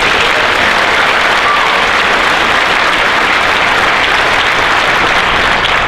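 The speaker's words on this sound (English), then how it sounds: "Give him a round of applause once again." A large crowd at a police class graduation ceremony gives loud, sustained applause: a thick, uniform wash of many clapping hands, unbroken and constant throughout.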